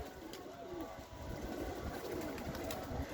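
Pigeons coo softly and repeatedly in low, rounded calls, faint against a quiet background with a few light clicks and no talk.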